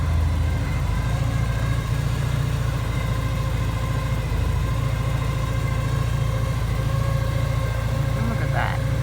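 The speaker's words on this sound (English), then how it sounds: "Something's whining in there that didn't whine before." A Porsche 944 engine running with a new whine, a loud, steady close hum with sustained tonal whining layered over the idle, and a voice speaking briefly near the end.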